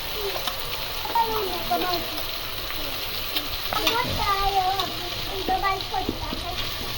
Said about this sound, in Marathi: नंतर मस्तपैकी थोडंसं परतून घेऊन तेलात आता गरम मसाला पावडर टाकत आहे.